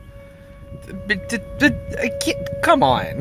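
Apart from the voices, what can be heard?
tornado sirens going off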